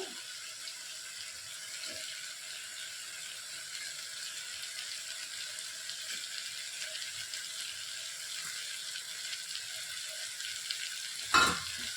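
Washed vegetables such as peas go into a frying pan under a steady, even sizzle. One sharp clatter rings out close by near the end. No talking.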